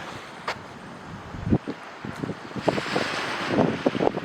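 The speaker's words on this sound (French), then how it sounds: "Avec le son des vagues." Waves lapping against a lakeshore at Lac-Saint-Jean with wind blowing across the microphone, irregular soft splashes building louder toward the end, no talking.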